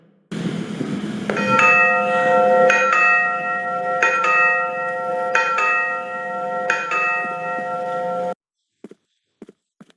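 A video game railway crossing bell clangs steadily in repeated bursts with a harmonic electronic tone, then stops abruptly, leaving a few faint clicks.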